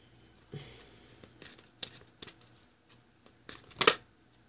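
A deck of tarot cards is shuffled by hand in several short, papery bursts of riffling and flicking, close and fairly quiet, with gaps between them and no talk.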